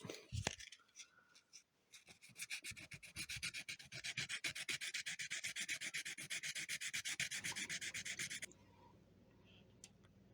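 Steady rhythmic rubbing of 120-grit sandpaper on birch wood by hand, quick back-and-forth strokes close up for several seconds, then stopping.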